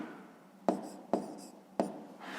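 Pen writing numbers by hand on paper, three sharp taps of the pen tip with soft scratching strokes between them, close and alone.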